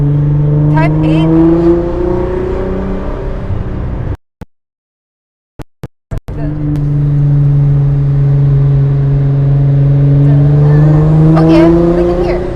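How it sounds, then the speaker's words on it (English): A car engine hums and rises as it drives past, cutting out briefly midway in a few abrupt dropouts before the steady engine sound returns. "You guys hear the car?"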